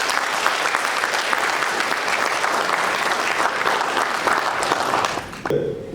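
Sustained applause from an audience at a farewell ceremony for Oumar Demba, a dense steady wash of many hands that breaks off abruptly near the end.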